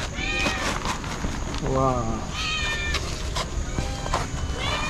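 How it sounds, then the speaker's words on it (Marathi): Several cats meow close by at a monsoon creek fishing spot, giving short rising and falling cries over and between people talking. "मांजरे बघा किती आहेत"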